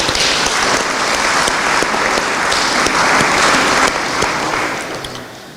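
Audience at a foundation's scholarship awards ceremony giving themselves a big round of applause, loud continuous clapping throughout that tapers off toward the end.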